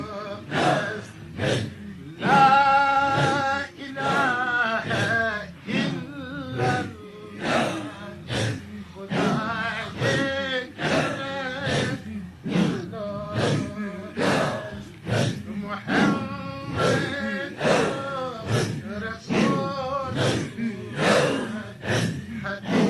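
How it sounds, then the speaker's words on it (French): Afghan Sufis perform a zikr, forcing loud rhythmic breaths and gasps in a steady, driving pulse, with voiced grunting tones among the breathing for over twenty seconds. "Il y participe par les mouvements rythmiques et par la respiration contrôlée."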